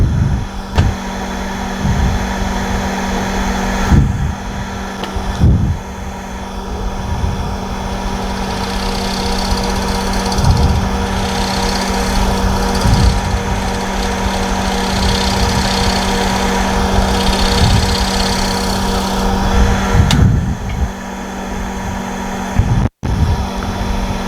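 Power sander working a thin wooden jar lid, a loud continuous motor drone with a low hum and intermittent rough thumps as the tool presses and lifts against the wood.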